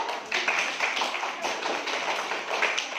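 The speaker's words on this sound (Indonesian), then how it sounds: "Terima kasih, kita tepuk tangan dulu." Students in a Bandung fifth-grade elementary classroom clap together, a dense, steady round of applause that runs the whole time at close range, with no talking over it.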